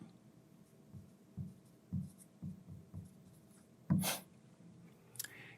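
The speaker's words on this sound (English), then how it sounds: "I'm just going to write that up here." Chalk or pen writing on a board during a forestry lecture on fixed area plot sampling: a series of short, soft strokes roughly every half second, faint and close, with a slightly louder scrape near the end.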